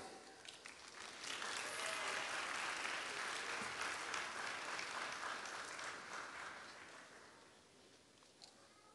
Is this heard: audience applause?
yes